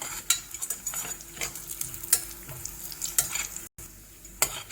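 Coconut fries in a pan while a spoon stirs it, producing a soft sizzle broken by repeated scraping strokes and light clinks of utensil against metal, close and fairly quiet.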